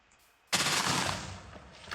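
A sudden loud TNT explosion in Minecraft bursts in and rumbles, then fades over a second or so, with a small crackle near the end.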